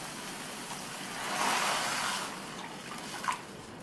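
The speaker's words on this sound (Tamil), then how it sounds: "2 கப் தண்ணி சேர்த்திருக்கேன்." Water poured from a cup into a pan of sautéed mushrooms for soup, a soft splashing rush that swells in the middle, then fades to a gentle trickle with a small clink near the end.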